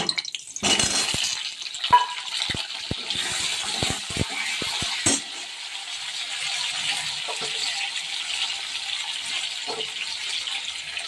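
Potatoes drop into hot oil with whole garam masala and set off a steady, dense sizzle, opening with clattering knocks as they land and then settling into a continuous frying hiss, with no talking.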